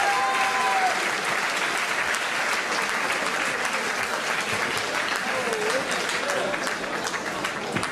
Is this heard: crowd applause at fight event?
yes